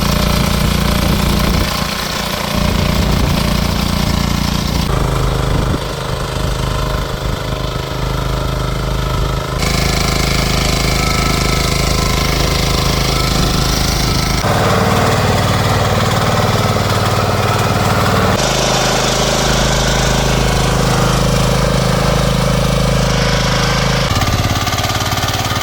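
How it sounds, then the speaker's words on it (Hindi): A 4x4 hydraulic mini tractor engine runs steadily and loudly while shaping raised field beds during a live farm demonstration, a continuous mechanical drone with shifts in tone and load and no talk. "क्यारी बना रहा है, जैसे हम जो है बड़े ट्रैक्टर से क्यारी बनाते हैं ऐसे ही क्यारी बना रहा है।"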